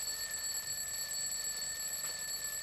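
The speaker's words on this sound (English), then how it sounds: "It's the alarm clock." An alarm clock rings continuously with a steady, high-pitched electronic tone, alone and fairly faint, with no talking over it.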